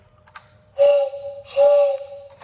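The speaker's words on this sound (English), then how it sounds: "The tender here, albeit cheap, mostly plastic, does have a whistle right here" A cheap, mostly plastic Lionel O gauge toy train tender sounds its built-in whistle in two loud, steady blasts close by, each lasting under a second with a short gap between, and no talking.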